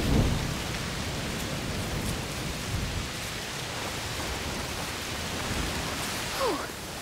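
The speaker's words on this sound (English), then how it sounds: "Oh, it's raining a lot." Heavy rain pours in a thunderstorm in the video game A Plague Tale: Requiem, a dense steady downpour with a low rumble of thunder near the start.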